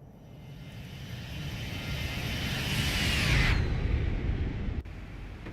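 A Boeing 737-800 jet sweeps past in a flight simulator flyby, its loud engine roar swelling steadily, peaking, then sliding down in pitch as it passes, with an abrupt cut near the end.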